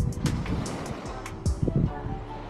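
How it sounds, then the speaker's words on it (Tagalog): Strong gusty wind at Atanacia Beach Park buffeting the microphone with a low roar during beach camping, with flapping and rustling bursts on top. "Pero sobrang lakas talaga ng hangin."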